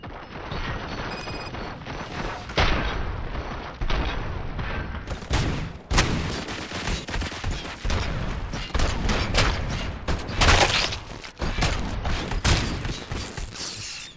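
Gunfire in Robocop: Rogue City, a dense run of loud, close shots and bursts over about fourteen seconds, with sharp impacts and mechanical clatter between volleys and no voices.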